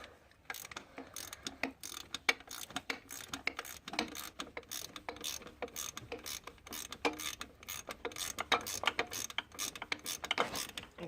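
A ratchet rapidly clicks while loosening 15 mm starter bolts on a first-generation Dodge Neon, a dense close run of sharp ticks in quick bursts continuing throughout.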